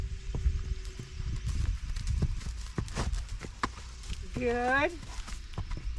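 A horse walks with irregular, light hoof clops on firm ground, close by, while someone speaks briefly in an encouraging voice.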